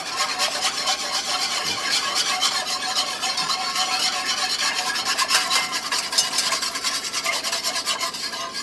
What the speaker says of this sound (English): Whisk that in. Break up all that flour.